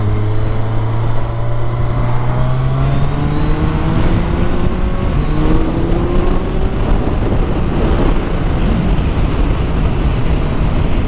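A 2022 Suzuki Hayabusa motorcycle rides hard, its engine note climbing steadily through several upshifts made with a smooth quick shifter, with loud rushing wind noise over the engine throughout.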